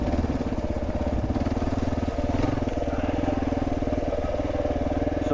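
A Kawasaki KLR650 motorcycle rolls slowly along a forest trail at Tahuya, its single-cylinder engine giving a steady low thumping putter at close range, held at an even throttle with no voices.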